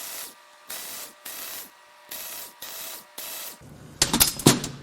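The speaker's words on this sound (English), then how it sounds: "I'm actually going to take these Allen-headed bolts out." Allen-head bolts are being worked loose from the AC compressor of a wrecked Audi S6 with a 5.2L V10, giving six evenly spaced ratcheting bursts, then a sharper clattering scrape of metal at the end, close and with no talking.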